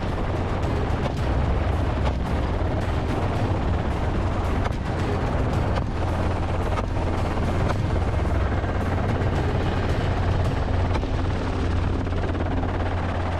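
Loud, constant helicopter rotor drone with sharp rifle gunshots cracking through at irregular intervals, from hunters shooting wild boar from a helicopter.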